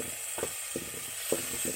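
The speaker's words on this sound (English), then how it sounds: "And then we have to stir." Food sizzling in hot oil in a pot on an African village cooking fire, with a steady hiss and a few scraping, knocking stirring strokes at irregular intervals.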